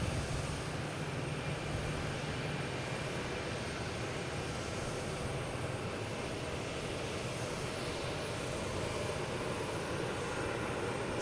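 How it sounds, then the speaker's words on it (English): JetBlue airliner arriving from Aruba at Boston Logan Airport, producing a sustained jet-engine roar that stays fairly even from start to finish, heard alone without talk. "JetBlue coming in from Aruba"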